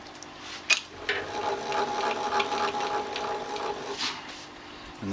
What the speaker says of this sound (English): get the other half in and mill the top of that